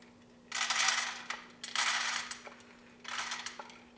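Peanuts poured into a hot pan for toasting rattle and clatter in three separate bursts, close and crisp, with short quiet gaps between pours.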